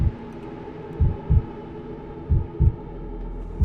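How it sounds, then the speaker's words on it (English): Heartbeat in Subnautica with the Atlas Submarine mod, deep thumping double beats in three evenly spaced pairs over a low ambient hum, loud and close. "There's the heartbeat."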